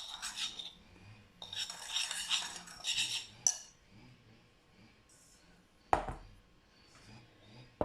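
A small spoon clinks and scrapes against a bowl while mixing a marinade for mini courgette flower fritters, in several quick bursts of stirring separated by pauses, with a few sharper knocks near the end.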